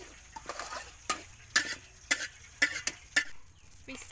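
Soybeans and fish frying in oil in a pan, with a steady low sizzle under repeated sharp scrapes and clacks of a utensil stirring against the pan, close and fairly quiet, no talking.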